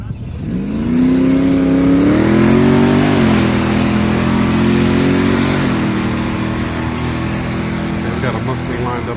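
A supercharged Mustang GT engine at a drag strip revs and holds a loud, close, droning pitch that rises, then settles into a steady rumble, with people talking over it.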